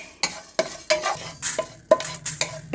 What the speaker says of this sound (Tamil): வெந்தயம் அரை ஸ்பூன் போட்டு இது மாதிரி வறுத்துக்கலாம்